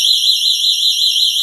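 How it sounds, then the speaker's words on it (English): A GE personal security window and door alarm sounds a loud, continuous high-pitched electronic siren with a rapid warbling sweep, steady and close throughout. "So here's the alarm. I'm going to go ahead and switch it to alarm"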